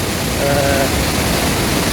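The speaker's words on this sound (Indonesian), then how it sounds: "air terjun yang kemudian sampai ke dasar" Curug Malela waterfall plunging to the pool below, a steady broadband roar of falling water that fills the clip continuously and loudly with no talk.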